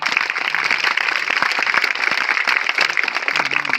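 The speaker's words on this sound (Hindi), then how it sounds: "सबसे पहले मंच पे उपस्थित हमारे बूंदी के लाल और बूंदी के शेर के लिए एक बार जोरदार ताली।" Loud, close applause from a crowd at an inauguration ceremony in Bundi, Rajasthan, for the guest on stage. Dense rapid clapping runs throughout without a break.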